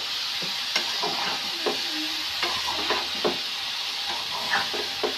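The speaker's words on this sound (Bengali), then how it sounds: "এইভাবেই তেলের উপরে এটি ভাজা ভাজা করব।" Fish pieces frying in hot oil for a Bengali egg and potato jhol curry, with a continuous close sizzle and repeated light clicks and taps from utensils and the pan.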